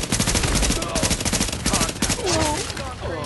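Sustained automatic gunfire in The Division, loud and dense as a player takes hits, with rapid overlapping bursts running throughout while a voice talks over it.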